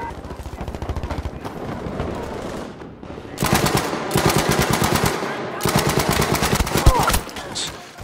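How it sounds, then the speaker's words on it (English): Automatic weapon fire from a Battlefield V multiplayer match, loud rapid bursts of machine-gun shots with short pauses between volleys, the later bursts denser and closer, over a faint background rumble. "I was trying to shoot at him, but the gun was just kind of flopping about"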